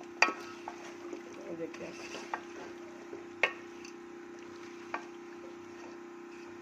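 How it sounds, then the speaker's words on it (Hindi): Potatoes, peas and masala roast in a handi pot with a soft steady sizzle, broken by scattered clinks and scrapes of a stirring spoon. A voice talks quietly over the cooking. "तो हमने खूब भूनना है ताकि मसाला भी गल जाए और साथ साथ आलू मटर भी गलेंगे।"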